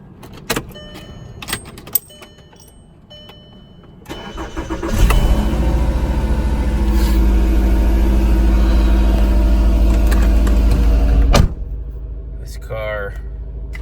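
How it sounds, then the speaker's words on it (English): A VW Mk5 is started after a rear brake pad change. There are a few key clicks and clunks, then the engine turns over and settles into a loud, steady idle for several seconds, and ends with a thump. "Now time for the test drive and to seat the brakes."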